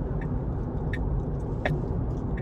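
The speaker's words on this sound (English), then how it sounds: "This is kind of heavy traffic." Heavy car traffic heard from inside a Tesla on the interstate, a steady low rumble of surrounding vehicles and road noise with a few brief sharp ticks, no talk.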